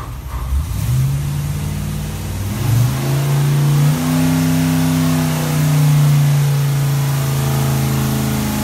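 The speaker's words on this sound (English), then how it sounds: "So we'll probably hear the rev limiter go." LS3 V8 with AFR heads and cam, fuel-injected, revs up in stepped climbs and holds high near its 7,000 rpm rev limiter, a loud, close, sustained engine roar with no talking.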